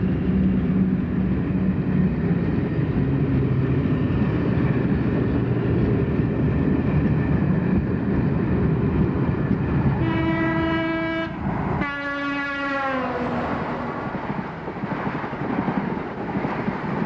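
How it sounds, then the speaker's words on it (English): A Deltic diesel locomotive hauling a northbound express emerges from Stoke Tunnel, a loud sustained rumble with wind buffeting, then two blasts of its two-tone horn sounding in quick succession before the roar continues. "Another of the Deltics emerges from Stoke Tunnel with a northbound express"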